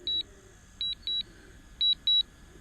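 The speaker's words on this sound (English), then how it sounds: "Wish you could stop that fucking beeping." Drone warning beeps during an aborted long-range mission flight, high electronic tones in short double pulses repeating at intervals, clear over a faint background hum.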